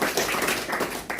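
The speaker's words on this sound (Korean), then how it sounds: "박수 한번 쳐보세요" A lecture audience claps briefly, producing a dense, close burst of hand claps that lasts about a second.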